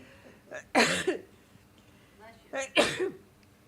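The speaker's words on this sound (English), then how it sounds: "I'm going to sneeze." Two loud bursts about two seconds apart, each a sharp explosive exhale with a breathy lead-in, like sneezes. Quiet background with a faint murmur between them.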